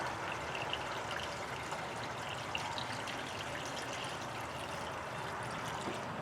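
Distilled water pours into a 2008 Pontiac G8's coolant reservoir in a steady, faint, continuous trickle that runs the whole time without a break.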